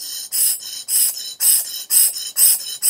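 A dental enamel hatchet is stroked across a sharpening stone in six rhythmic, evenly spaced push strokes, each a crisp, close scraping hiss with short pauses between.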